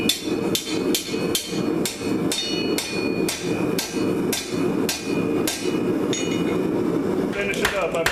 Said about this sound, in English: I hit the hook to get it down as far as I can.